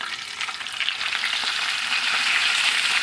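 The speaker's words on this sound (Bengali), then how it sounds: "এখন এই কচুটা এই কড়ার মধ্যে দিয়ে দেবো" Boiled taro with a spice tempering fries in a kadai, a loud, continuous close sizzle with scraping stirring strokes throughout and no speech.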